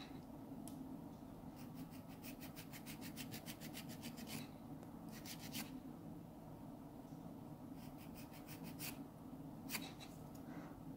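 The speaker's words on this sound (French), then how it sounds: "Et on va venir très délicatement limer, mais vraiment très délicatement, le petit peu de gel qu'il nous reste à limer sur les contours." A nail file rasps UV gel off the edges of a fingernail in quick, light back-and-forth strokes that come in short bursts. The strokes are faint and close over a steady background hum.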